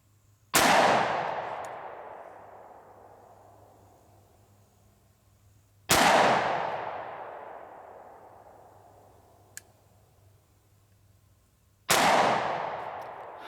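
Three loud, sharp shots from a SIG SAUER P320 XTEN 10mm Auto pistol, spaced about six seconds apart, each with a long ringing decay, close and alone without talk.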